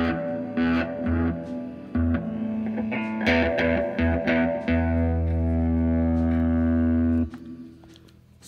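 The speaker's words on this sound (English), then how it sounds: "That is my clean sound." Clean electric guitar picking a few notes and chords, then a long ringing chord that fades, played alone through an amp.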